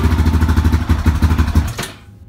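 A Yamaha Raptor 660R ATV engine with a newly installed carburetor, on full choke, chugs in a loud, close, lumpy rhythm for a couple of seconds, then abruptly cuts out to silence.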